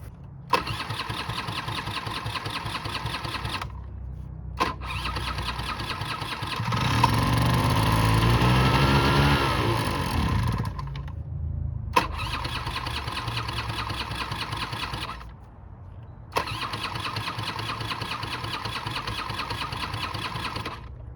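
A 1985 Honda Aero 50 scooter with a running fault starts and buzzes at a high, steady idle, cuts out, then is restarted several times with short revving swells between brief silences.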